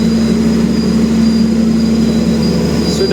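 Heard from inside a train pulling into Kebumen station, a loud steady rumble carries a sustained tonal whine from the wheels, continuous and close throughout.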